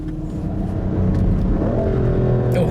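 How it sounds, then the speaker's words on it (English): A race car engine on a track day drones loudly up close, its pitch rising and sliding as the car accelerates, with a steady in-cabin roar throughout. "Oh, this car still sounds as nice as ever."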